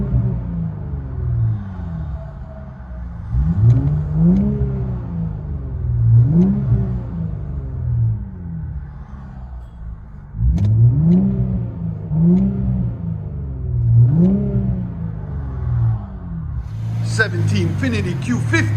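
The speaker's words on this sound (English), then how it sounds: "You can hear the turbo. Let you guys hear on the inside." A 2017 Infiniti Q50 3.0L twin-turbo with a muffler and resonator delete and an X pipe revs repeatedly from inside the car. Each rev rises and falls with turbo whoosh, and a voice talks over the engine.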